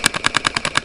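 An airsoft gun firing a rapid automatic burst of about eight sharp, evenly spaced shots, loud and close with no talk over it.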